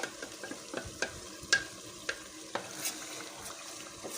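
Tomato paste goes into a frying pan, a gentle sizzle running underneath scattered taps and scrapes of a spoon stirring it in, close and fairly quiet.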